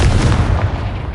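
Confringo fire spell explosion in Hogwarts Legacy on PlayStation 4 Pro, a loud, close, booming blast with a dense rumbling tail that fills the whole moment.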